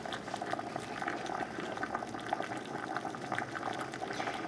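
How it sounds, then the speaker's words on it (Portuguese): Water boiling steadily during a temperature test of a PT100 sensor read by a PLC, a dense continuous bubbling and rumbling that stays even and fairly close throughout, with no voices. "Ó, já está fervendo a água."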